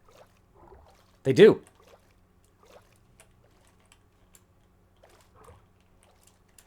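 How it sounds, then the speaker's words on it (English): A tiny, quiet splash of water from a squid in Minecraft: one brief burst that stands out between stretches of near silence, with a person talking softly before and after it. "It's just like a little tiny water noise."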